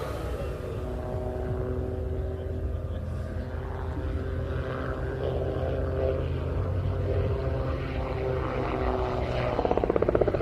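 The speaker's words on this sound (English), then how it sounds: "he'll pitch the aircraft up, engage the Rotax and come straight towards us" A Rotax-powered gyroplane flying toward the crowd at an air show makes a steady, droning engine and propeller hum that builds in loudness, ending in a rapid fluttering pulse as it closes in.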